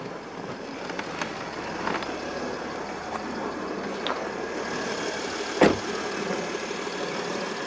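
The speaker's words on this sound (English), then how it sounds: "The engine's running" Mercedes-Benz ML350 CDI BlueEfficiency 3.0 diesel running at idle, a low, steady hum with faint periodic ticks and one brief louder knock, heard alone.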